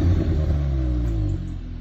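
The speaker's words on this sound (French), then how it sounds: "Ça fait un bon pop and bang." An Audi S3 sedan revs and settles with a deep exhaust rumble and a few crackling pops, close and loud over less than two seconds.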